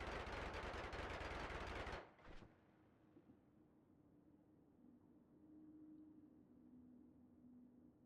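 A bullet spell cast in the game Noita, a loud rapid burst of gunfire-like shots for about two seconds, then a sudden drop to a quiet hum with a faint lingering tone.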